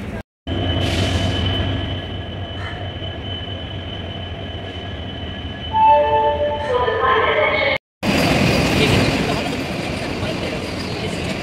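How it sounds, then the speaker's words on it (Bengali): Train noise at Santragachi railway station in West Bengal, a steady rumble of rolling stock and platform ambience with a brief squeal of wheels, a short break in the sound, then louder broadband rail noise close by. "সাঁতরাগাছি স্টেশন পৌঁছে গেছি।"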